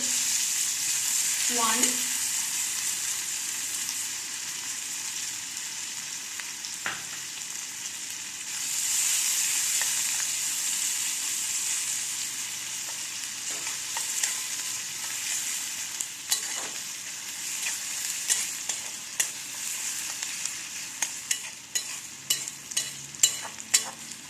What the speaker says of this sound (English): Let's cook the onion well.